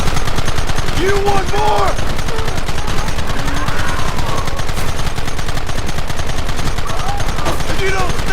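Rapid gunfire from a Red Dead Redemption mission firefight rattles continuously through the scene, with bursts of automatic fire and shots layered under occasional shouted speech.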